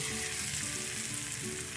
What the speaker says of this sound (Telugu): పచ్చడిలోకి పోపు వేసుకుందాం